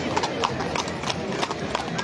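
Horses' hooves clip-clop in a steady, fairly close rhythm at an event in Arles, with people talking throughout and a brief whinny possible among the hoofbeats.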